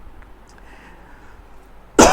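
A single sharp cough bursts out at the very end after near silence.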